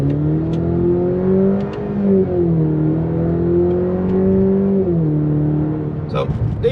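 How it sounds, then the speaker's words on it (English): A 2020 Cadillac CT5 pulls hard under acceleration, its engine note climbing steadily, then dropping briefly as the paddle shifters bring gear changes around two and five seconds, heard from inside the cabin. "We're gonna do a pull with the paddle shifters and see how smooth it is."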